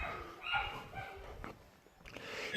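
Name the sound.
puppy barking in his cage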